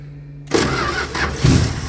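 A 1972 Plymouth Duster with a 318 engine and 904 transmission, unrun for 25 years, cranks and catches after a quiet start, then settles into a loud, close, rough running roar with a couple of surges.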